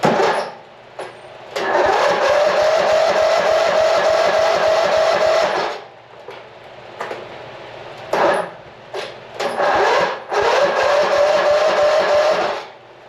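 A small Cub Cadet lawn tractor engine cranks and turns over repeatedly, running in rough bursts that cut out and restart, loud and close.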